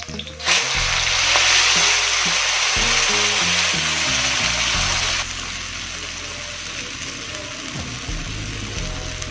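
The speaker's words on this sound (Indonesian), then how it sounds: "Kita masukkan bumbu yang sudah di blender." Blended spice paste sizzles loudly in hot oil with chopped shallots, a steady frying hiss running throughout, with low clatters of stirring beneath it and the sizzle easing slightly partway through.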